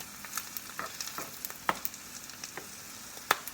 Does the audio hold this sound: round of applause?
no